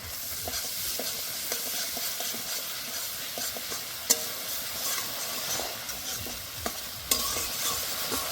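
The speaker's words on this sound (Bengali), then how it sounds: "তেলের উপরে দিয়ে দেবো কাশ্মীরি রেড চিলি পাউডার।" Kashmiri red chili powder sizzling in hot oil for a Kashmiri-style cabbage dish, a continuous crackling fry with regular spatula scrapes and taps against the pan, plus a couple of brighter metallic clicks.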